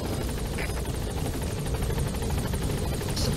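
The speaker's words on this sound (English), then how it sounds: "Support helicopter has arrived." A military support helicopter in Metal Gear Solid V drones loud and close, its rotor beating in a rapid steady pulse over a deep engine rumble for several seconds.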